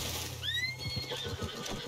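A horse in Red Dead Redemption 2 lets out a short, close whinny with a rising squeal, followed by a few soft hoof thuds.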